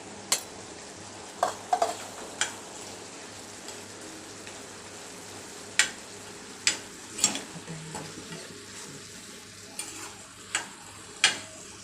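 Ground coriander, cumin and garam masala being stirred and fried with fenugreek leaves in a pan: a low background sizzle punctuated by a dozen or so sharp spoon clicks and scrapes at irregular intervals.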